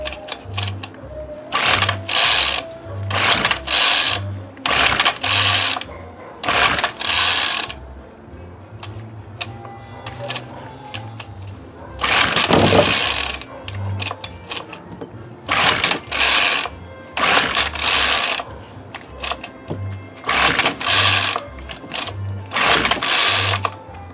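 Repeated pull-starts on a Homelite ST-285BC gas trimmer whose engine won't catch, a rhythmic series of loud, rasping recoil-cord pulls coming in bursts with short pauses between them.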